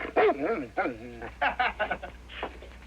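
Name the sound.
dog barking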